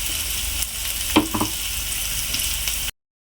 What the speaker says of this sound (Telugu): ఇప్పుడు ఫాస్ట్గా ఫ్రై అవుతుంది.